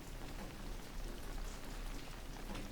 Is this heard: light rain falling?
yes